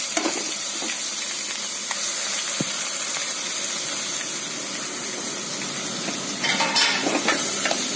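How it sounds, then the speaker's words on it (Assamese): Finely grated vegetables fry with garlic, chili and five-spice in a pan, a dense, close hiss with scattered stirring scrapes that grow busier toward the end. "অকণমান লৰাই দিছো এতিয়া মই পাচলিখিনি দি দিছো"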